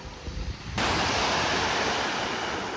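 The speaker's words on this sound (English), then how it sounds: "The sea is coming in." Sea waves roll in below white cliffs at Birling Gap as a loud, broad wash of surf that swells up suddenly and then holds steady, mixed with wind rumble on the microphone.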